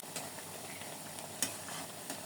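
Steady crackling sizzle of leftover roti frying in a hot pan, with a few faint clinks of a utensil.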